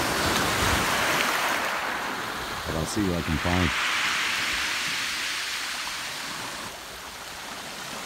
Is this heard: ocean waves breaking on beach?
yes